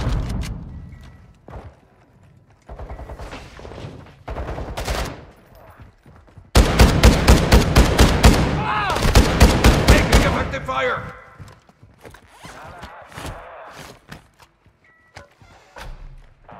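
Gunfire in the Call of Duty DMZ game: scattered single shots and thuds, then a loud, sustained burst of rapid automatic fire with evenly spaced cracks, fading into sparser shots near the end, with voices talking underneath.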